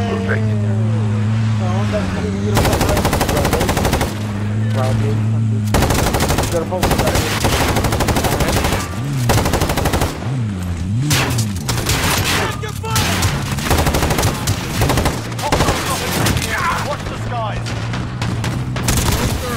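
Call of Duty: Warzone airstrike with heavy explosions and rapid machine-gun fire, loud, dense repeated blasts and bursts throughout, with players shouting over the chaos.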